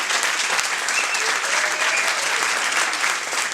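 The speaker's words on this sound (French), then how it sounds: "Et je voudrais qu'on applaudisse très fort les personnes qui nous ont accompagnés du Périgord, qui sont Damien et Laurent." Steady, dense audience applause fills a festival closing-night event in France, a continuous wash of clapping from a crowd, fairly loud and even throughout with no break.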